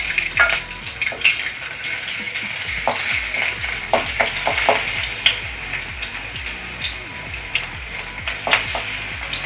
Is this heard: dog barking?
no